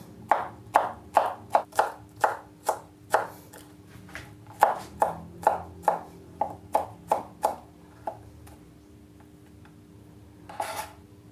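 Peeled, crushed garlic cloves being chopped small on a cutting board, a fast rhythmic run of about twenty crisp knife taps that slows and stops, then a brief rustle.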